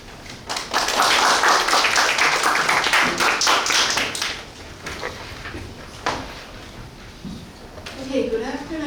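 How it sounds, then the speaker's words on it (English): Audience applause at an international seminar on WHO pandemic treaty negotiations, a loud burst of clapping filling the room for about four seconds before fading into scattered claps and quiet room noise. "Please give her a warm round of applause."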